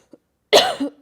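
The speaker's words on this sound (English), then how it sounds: "Sorry, I keep coughing." A single sharp cough bursts out up close, followed by a shorter rough second hack, with a faint click just before.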